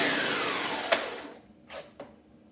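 A blender whirring as it purees dry black beans for brownie batter, a close, loud motor hum that winds down and fades out, followed by a few faint clicks and knocks.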